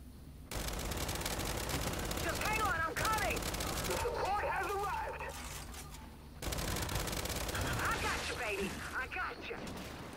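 Gunfire from a close-range gun in Gears 5 Horde mode on the Asylum map, dense bursts of loud shots running nearly the whole time with a brief lull, under a player's voice talking.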